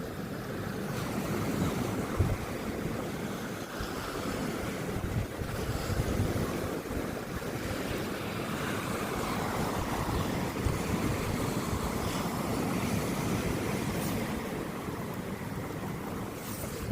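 Wind-driven waves wash up onto a beach on the coast, a steady loud roar of surf mixed with heavy wind buffeting the microphone throughout.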